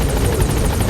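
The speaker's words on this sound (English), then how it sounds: "Get on the chopper." Helicopter in the Metal Gear Solid V video game, a loud, close, continuous rotor thrum and engine buzz with a steady rhythmic chop throughout.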